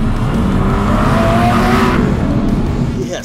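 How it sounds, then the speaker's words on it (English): A loud V12 car engine roars past at high revs, exhaust note rising and then fading as it moves away, with a brief tire squeal. "that V12 sounded pretty good"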